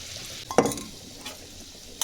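Spices and a curd mixture stirred in a pan: a spoon scrapes and clinks once, then a soft sizzle and a few light stirring scrapes follow, close and fairly quiet, with no talking.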